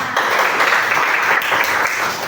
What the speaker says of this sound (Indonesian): Oke, kan tepuk tangannya.